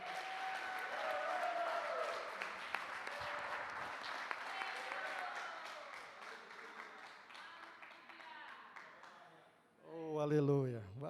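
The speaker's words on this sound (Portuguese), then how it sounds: "Vamos aplaudi-lo." Church congregation at a family service clapping steadily for several seconds, the applause fading gradually before a voice briefly speaks near the end.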